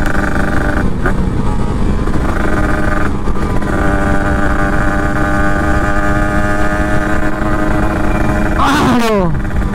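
Racing motorcycles, including a Honda CB150R Streetfire (NightRun), Yamaha MX King, Yamaha MT-25 and Kawasaki Ninja RR, roar loudly and steadily at high revs, with one bike's pitch sweeping sharply near the end as it passes close.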